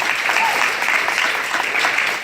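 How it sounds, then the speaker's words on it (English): Conference audience applauding a speaker at a business event, a dense burst of clapping that stays steady for two seconds. "Thank you for applauding."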